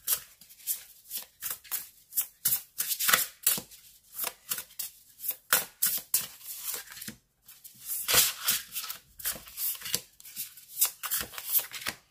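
Tarot cards being shuffled for a cross spread, a close, continuous flutter of riffling and sliding cards in repeated bursts with one short pause, no talking.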